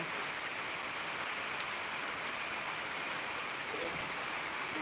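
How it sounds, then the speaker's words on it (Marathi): Dense, even hiss of rain falling steadily all around, soft and continuous with no voices. "हे बघा पाऊस चालू झालाय"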